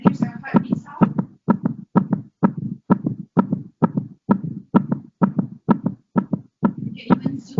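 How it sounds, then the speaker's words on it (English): Heartbeat sound effect from an augmented reality heart model played on an iPad, a loud, steady lub-dub pulse repeating about a dozen times in even rhythm, alone without talk. "spinning, and there's a heartbeat sound."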